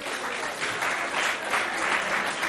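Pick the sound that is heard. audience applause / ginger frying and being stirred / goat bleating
audience applause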